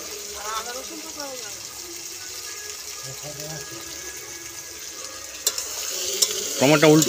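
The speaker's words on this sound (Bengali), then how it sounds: "টমেটোটা উল্টে পাল্টে মানে উল্টে পাল্টে করে রান্না করতে হবে" Tomatoes frying in a kadai while being turned and stirred: a continuous sizzle with scraping spoon strokes, a voice talking over it, and a louder clatter near the end.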